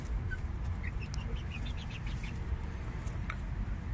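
Hens and chickens clucking on a small farm, where a laying hen is being kept from going broody; short, scattered calls sound at moderate distance over a steady low rumble of background noise.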